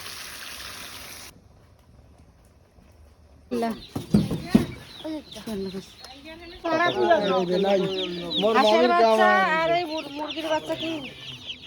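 Chickens cluck and squawk nearby in a rural yard, starting after a quiet stretch and building into a dense run of calls, with a person talking between and over them.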